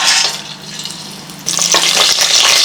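Tempering spices hit hot oil in a pressure cooker, a bright crackling sizzle that eases for a moment, then flares louder with sputtering pops and stirring scrapes.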